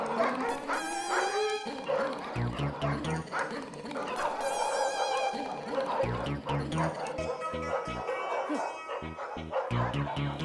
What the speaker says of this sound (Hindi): ऊपर से कुत्ते भी भौंक रहे हैं।